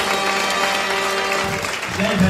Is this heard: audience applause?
yes